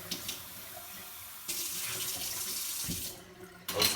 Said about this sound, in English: this jar just needs a few seconds under hot water